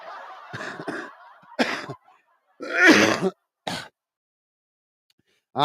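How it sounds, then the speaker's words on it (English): Several short, breathy coughs from a tickly cough during a cold, in irregular bursts, close to the microphone, with quiet pauses between them. "I've still got this bloody tickly cough from this cold"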